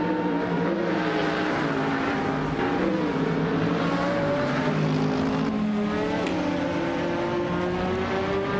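Race cars in a racing game, including a 2009 BMW 134 with a Judd V8, roar off the start line together as a steady, dense blend of revving engines with pitch sweeps, loud and continuous with no talk.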